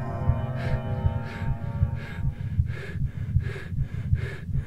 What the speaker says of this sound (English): is that my own breathing sound?